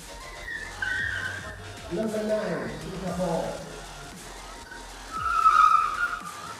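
A car launches hard at an auto gymkhana run, with a brief tire skid and rising engine note midway, followed by another squeal later, heard at moderate distance under background crowd sound and commentary.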